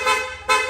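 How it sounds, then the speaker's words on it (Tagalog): Two short blasts from the stock horn of a Honda Click v3 scooter, loud and close, separated by a brief gap. "Pwede nating i-rapid horn, long press lang po natin yung horn switch."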